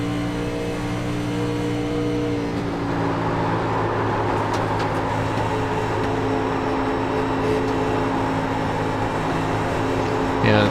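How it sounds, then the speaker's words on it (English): At Daytona, race cars roar with a steady engine drone and broadband tire rumble against the track, loud and continuous throughout with a brief rise near the end and no voices. "You can hear that rubber rubbing off them tires"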